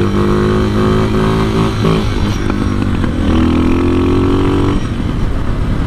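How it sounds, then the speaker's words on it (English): A motorcycle engine revving loud and close, a steady roaring drone with rising and falling pitch as the throttle shifts, heard alone without talk. "This bike though, it's a whole new bike."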